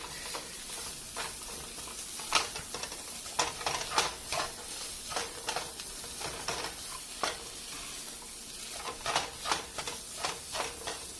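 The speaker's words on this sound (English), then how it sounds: "now that I've added all the spices, as you can see, we're gonna continue mixing it" Spiced food in a hot pan is worked with a spatula, making repeated scraping and knocking strokes in an uneven rhythm over a low sizzle, close and moderately quiet, with no talking.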